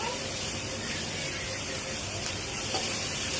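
Prawns stirred and sautéed in a pan while cooking with kochur loti: a steady, hissing sizzle that holds evenly throughout, with faint scraping and no spoken words.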